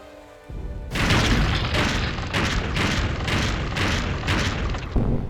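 A grenade blows up in the Wizordum video game: a loud, close, sustained explosive roar with repeated pulsing bursts and a final thump, with no talk.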